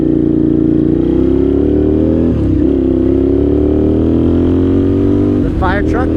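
A 1998 Suzuki TL1000R motorcycle engine drones loudly and steadily while riding, holding a rising pitch before briefly dipping as it shifts and then revving again near the end, with wind noise throughout.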